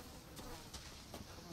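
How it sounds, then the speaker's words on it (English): Bugs buzz in a dense, faint swarm in the game Resident Evil 7, a continuous hum with a few brief louder passes as insects fly near. "Bugs."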